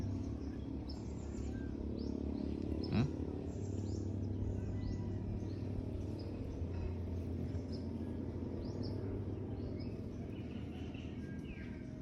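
A small blue bird called a tagkarid chirping at a beach resort on Polillo Island, Quezon Province; faint, high, repeated chirps ring out over a constant low drone and hum.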